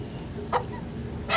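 A young chicken gives two brief, faint clucks, one midway and one at the end, over quiet background noise.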